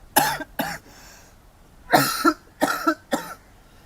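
A series of sharp, harsh coughs in quick bursts, two at first, then a pause and four more, close and fairly loud.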